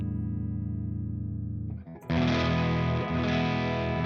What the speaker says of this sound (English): It's going to give you that Korg SDD 3000 sort of 80s rack delay boost